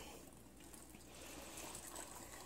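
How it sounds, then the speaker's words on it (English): Water pours into a half-gallon jar of cucumbers and garlic being weighed on a scale, a faint steady trickle that grows slightly fuller as it fills. "Now we're just going to add the water."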